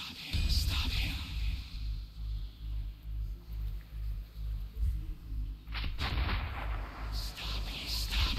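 Gunfire in the video game Metro Redux, a run of evenly spaced booming shots pulsing over a dense low rumble, followed by a sharper burst near the end.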